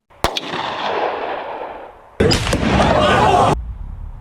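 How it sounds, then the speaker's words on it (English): A pistol shot played back as a recording, with a sharp crack followed by a long hissing decay, then a second burst of broad noise that cuts off abruptly. "So let's listen to my pistol shot and compare it to the actual shot recorded that day."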